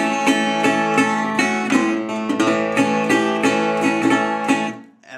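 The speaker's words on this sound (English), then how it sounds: "and then he goes into this country rhythm." Acoustic blues guitar plays a bouncing country rhythm, with evenly spaced strummed chords and upstrokes, close and steady, fading out at the end.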